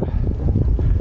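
Gusty wind on Signal Hill in Cape Town buffets the microphone in close, loud low rumbles and puffs that come in uneven bursts, with no voices.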